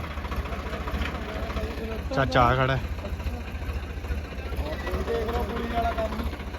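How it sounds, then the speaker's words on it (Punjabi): A tractor engine rumbles low and steady as it pulls a car stuck in rain-soaked mud. The drone continues throughout while people talk nearby. "ਗੱਡੀ ਗਈ ਫਸ ਟਰੈਕਟਰ ਮੰਗਾਇਆ ਚੰਨੇ ਵਾਲਾ ਹੁਣ ਲੱਗਿਆ ਕੱਢਣ"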